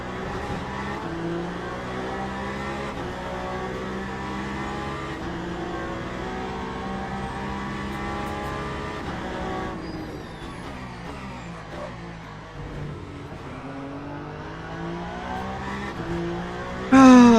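A Ferrari GT race car in the Le Mans Ultimate sim runs flat out at the Bahrain circuit, its engine holding a steady, loud, harmonic drone with gear-shift shifts in pitch partway through and a sharp burst at the very end.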